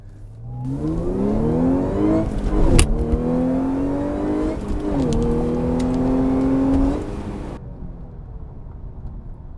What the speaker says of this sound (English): you can definitely hear the supercharger whine on this car